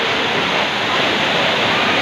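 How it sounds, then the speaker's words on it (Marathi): Water falls from a height at a tall fort, a steady, loud, broadband rush that stays unbroken and close throughout. "आणि हा वरून पडणार पाणी उंच गड आहे"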